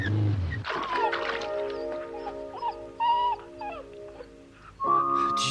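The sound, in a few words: dog whimpering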